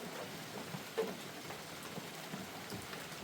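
Rain falls on tree leaves along a trail, a soft, steady patter of scattered drops with a few slightly sharper taps, faint and distant, with no voices.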